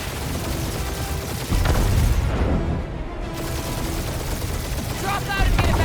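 Gunfire and explosive booms from the Guardians of the Galaxy video game fill the whole stretch, a dense, loud barrage of shots and blasts with no pause.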